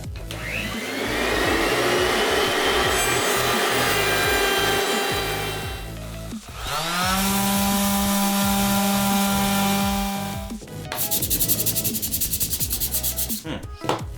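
A power tool whines and grinds loudly and continuously as the angular edge of a homemade dust collection board for a drill stand and jigsaw table is sanded smooth, its pitch shifting as the load on it changes.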